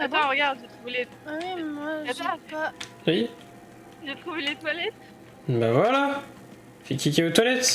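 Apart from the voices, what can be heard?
None of the usual background noises is heard.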